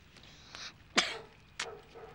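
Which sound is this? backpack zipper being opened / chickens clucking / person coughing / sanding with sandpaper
person coughing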